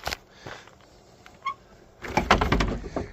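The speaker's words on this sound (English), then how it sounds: "So I'm going to open the door, which I haven't done in a while." A 1971 Lincoln Mark III car door is opened, a few clunks and rattles and then a louder burst of latch and hinge noise near the end, with quiet background between.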